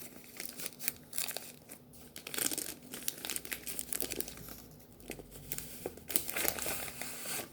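Paper wrapping being torn off a stack of books indoors, a steady run of close crinkling, crumpling and ripping that rises and falls in short bursts, with no one talking.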